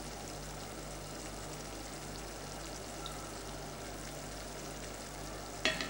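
Sugar syrup for caramel boils in a pan on the heat, a dense, even bubbling sizzle close by that carries on steadily, ending with a faint knock.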